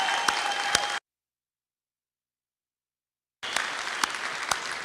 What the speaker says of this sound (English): join me in a round of applause for our graduates